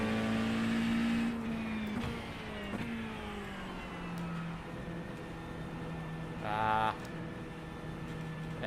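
Race car engine in a racing video game, a steady close drone whose pitch falls and climbs through gear changes, with a brief higher whine near the end; no talk over it.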